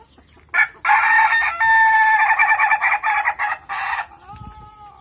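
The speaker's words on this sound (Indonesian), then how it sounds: "Dan sebagian sudah rajin ngokok." A rooster crows loudly and close by, with chickens clucking around it and a short cluck trailing off at the end.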